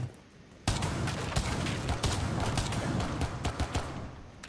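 Gunfire in the video game Rainbow Six Siege, with a suppressed shotgun among the weapons: after a short quiet opening, a burst of loud, close shots fires in quick irregular succession and continues steadily to the end.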